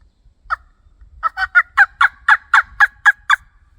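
A wooden turkey call of African blackwood with a hen wing bone tip, yelping in a quick run of about ten evenly spaced, sharp notes, loud and close, with no talking.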